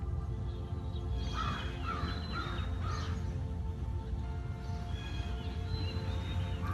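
Several birds call outdoors, including harsh caws, over a steady low hum of distant traffic.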